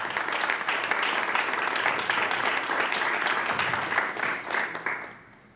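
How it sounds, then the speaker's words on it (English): An awards audience at a school board meeting claps for a film nominee, a lively burst of many hands that holds steady, then thins out and stops near the end. "So a round of applause for Fiona Tran."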